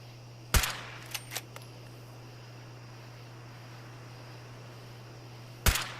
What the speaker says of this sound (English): they might be able to figure out that gunshots are coming from here